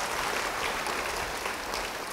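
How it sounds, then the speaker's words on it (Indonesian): Church congregation clapping during a Sunday service, a steady, even wash of moderate applause that holds for the whole stretch with no voices on top. "Beri tepuk tangan bagi Dia."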